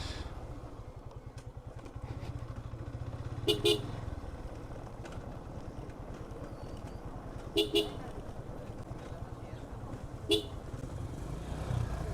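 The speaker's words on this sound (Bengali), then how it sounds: "এই যে এটা হচ্ছে বাজার" Motorcycles and cars move through a busy village market on a hill road, with several short horn toots rising over a steady engine rumble and background chatter.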